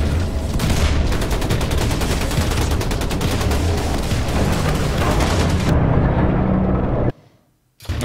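Dense, rapid gunfire from shotguns in the Wolfenstein 2 video game, loud and continuous for several seconds before cutting off abruptly into near silence.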